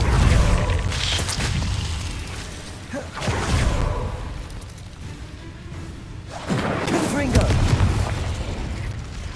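Fire spell bursts in Hogwarts Legacy, three booming whooshes of flame spaced a few seconds apart under a player's voice.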